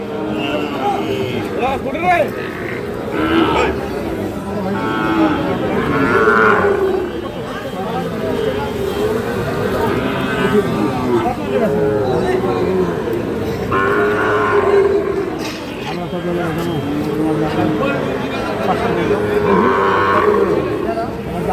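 Cattle lowing and mooing repeatedly at a livestock market amid a noisy crowd, with people talking throughout in a busy, loud outdoor setting.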